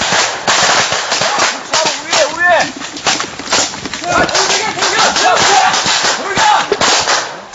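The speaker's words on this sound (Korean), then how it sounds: "희미한 불빛과 총소리뿐 어디서 총알이 날아오는지도 분간하기 어렵다" Gunfire crackles during a night infiltration attack in a South Korean military combat training exercise, with sharp repeated shots and bursts scattered throughout, some close and loud, amid a busy, noisy field scene.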